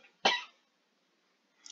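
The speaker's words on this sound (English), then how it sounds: "Just a cough." A single short, sharp cough sounds close to the microphone, followed by silence and a faint trace of another sound at the end; nobody speaks.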